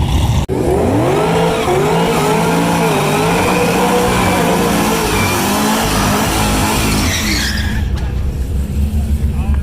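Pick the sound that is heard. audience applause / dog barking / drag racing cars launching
drag racing cars launching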